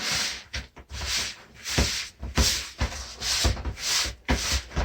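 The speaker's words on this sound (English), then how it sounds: "And keep doing this until all of that dust and all that nonsense is incorporated. You just keep press, press, press. Make it into dough." Bourbon ball dough pressed and mixed with a firm spoon in a deep, firm-sided bowl, giving close, rhythmic scraping and squashing strokes about twice a second, with no talking.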